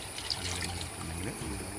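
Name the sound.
mixed liquid solution being poured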